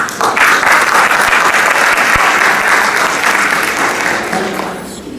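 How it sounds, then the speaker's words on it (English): A crowd at an Asian American organization's anniversary gathering gives the mayor a big round of applause, loud, dense and steady clapping that holds for several seconds before tapering off. "Give us a big round of applause to our business-friendly mayor"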